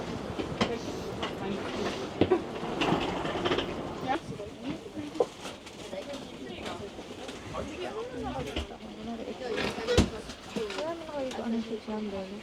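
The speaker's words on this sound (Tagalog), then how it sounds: "Ayan, umaandar na yung ating train." A train rolls along in Copenhagen, heard from aboard as a steady rumble with faint clicks and creaks, while people talk nearby throughout.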